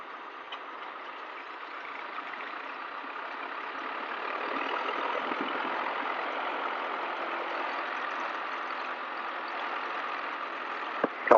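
A light aircraft's piston engine idles on the ground before a training taxi, a faint, even drone that holds steady for several seconds before a couple of sharp clicks at the end.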